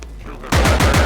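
Rapid gunfire in a VR shooter game, a loud bursting volley of several quick shots that starts partway through after a quieter lead-in.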